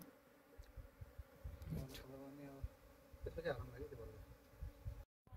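Honeybees buzz around a hive being moved from a damaged box into a new one, a close, steady hum beneath people talking.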